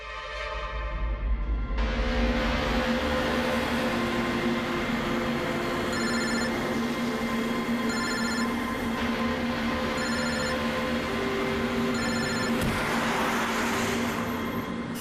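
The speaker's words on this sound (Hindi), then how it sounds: "कब से लैंडलाइन पे फोन कर रहा हूँ सर, फोन ही नहीं उठा रहे" A landline telephone rings on and on with no answer, regularly spaced electronic trills repeating every two seconds over a steady droning background, fairly loud and with no voices.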